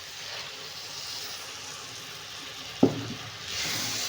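Ground chili with chana dal and urad dal hits hot oil for tempering, a sudden sharp sizzle bursting up after quiet kitchen hiss, then settling into a steady frying crackle.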